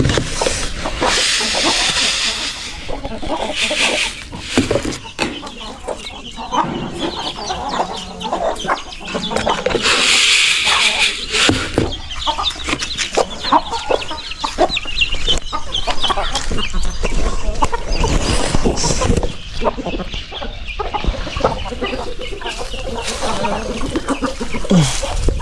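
Hens clucking and a rooster calling in a farmyard pen, steady bird calls layered over continuous hiss and ambient noise, with occasional human voices in the background.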